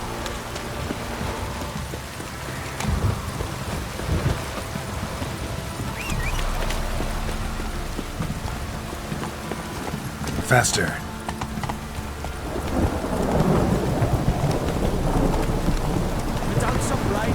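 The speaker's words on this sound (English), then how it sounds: "This downpour's a bastard, it is." Steady heavy downpour and rolling thunder in The Witcher 3, a dense continuous rain hiss with a sharp crack midway and swelling rumble later, while someone speaks briefly over it.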